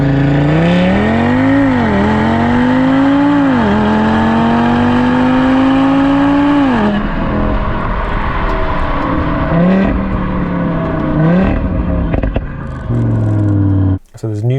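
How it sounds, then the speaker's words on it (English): Tuned Audi RS3/TTRS 2.5L TFSI five-cylinder with a Stage 2 performance map, its exhaust revving loudly and rising and falling in pitch, dropping into burbling overrun with crackles before a sharp bang near the end. "We have various modes for exhaust noise, overrun, or if you want to call it pops and bangs"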